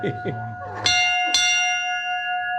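Two loud clangs of a metal ship's bell follow brief talk, each strike leaving a bright, long ringing tone that slowly fades.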